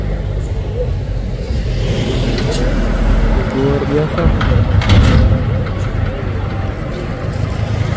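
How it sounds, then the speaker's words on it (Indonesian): Two Fuso trailer trucks climb a hill at Bukit Kodok, their engines giving a heavy, steady rumble with road noise that swells slightly midway. Someone talks over the sound. "Dua unit truk trailer Fuso mau nanjak bosku."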